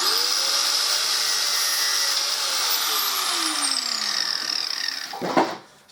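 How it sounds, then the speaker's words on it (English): An angle grinder cuts off a length of line from a reel during a Harley Davidson Deuce trike conversion, a high steady whine whose pitch slowly drops under load before a short burst of cutting noise as it finishes. "I'm just going to cut it straight off with the grinder"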